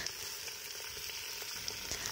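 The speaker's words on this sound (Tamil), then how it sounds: "கறியை சேர்த்து வந்து வதக்க ஆரம்பிச்சிடுங்க." Steady sizzling of country chicken meat frying in a hot pan, a continuous crackle with small pops throughout, no voices.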